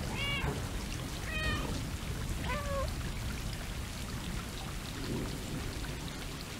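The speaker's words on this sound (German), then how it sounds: "Wir können miauen." A cat meows several times, short and high, in the video game Stray, over steady loud rain and rumbling thunder with no talk.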